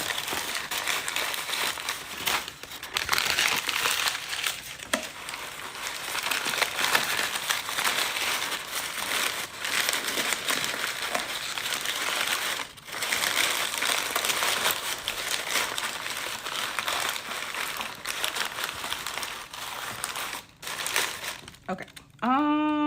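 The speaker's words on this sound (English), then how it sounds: "I feel like there's no good way to like show how to shove the paper in here." Packing paper is crumpled and stuffed into a box while a ceramics order is packed, giving a continuous loud crinkling and rustling with brief pauses and occasional speech.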